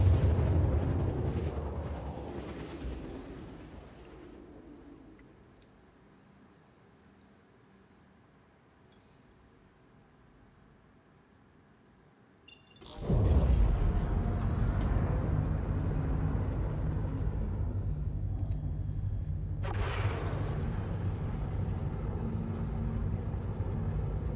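Deep rumbling thrust of a Corsair spaceship descending to land in Area 18 in a video game, fading to a quiet hum before a sudden loud burst of engine roar and a second surge near the end.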